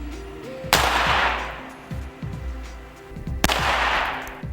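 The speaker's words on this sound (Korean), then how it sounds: "같은 조건으로 방탄유리가 총알을 막아내는지 실험했습니다." A gun is fired at bulletproof glass in a test, with two loud, sharp gunshots about three seconds apart, each followed by a long ringing decay over a low background rumble.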